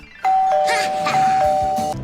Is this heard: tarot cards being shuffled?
no